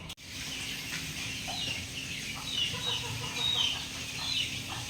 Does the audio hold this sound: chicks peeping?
yes